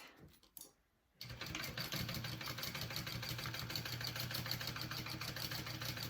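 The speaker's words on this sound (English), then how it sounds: "sew it 1/4 inch seam allowance" After a brief quiet start, a sewing machine runs a 1/4 inch seam on a handbag pocket, whirring in a fast, even, continuous drone up close with no talking.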